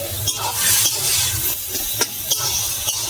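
A spoon stirs ash gourd and moong dal curry in a pan, soft scraping strokes at a regular rhythm over a low sizzle, close by and alone.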